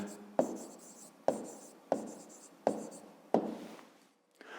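A pen writes an answer on paper in five quick strokes at a steady rhythm, scratching close and quiet, then falls still.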